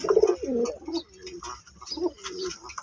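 A male high-flying pigeon coos close by in a few soft, throaty rolling phrases, with short pauses between them and faint background noise.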